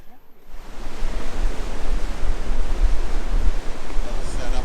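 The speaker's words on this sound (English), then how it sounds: "waves are still pumping" Ocean surf breaking on a Fraser Island beach with the tide well up, a loud, continuous roar of churning waves and wash rising in after a brief quieter opening, with some wind buffeting the microphone.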